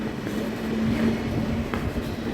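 Subway train at the Cheonan-Asan station platform in Korea, a steady rumbling rail roar with a faint tonal hum and a small clack near the end, continuous and fairly loud with no talk.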